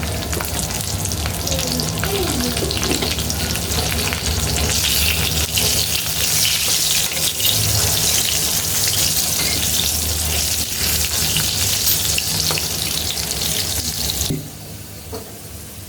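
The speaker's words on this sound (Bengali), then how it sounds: "আমার আলু লাল লাল করে ভাজা হয়ে গেছে" Potato pieces frying in oil for a rice biryani sizzle loudly and steadily at close range, with occasional stirring, until the sound drops off sharply in the last second.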